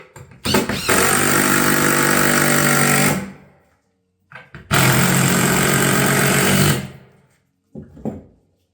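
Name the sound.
fastening nails or screws into roof tile battens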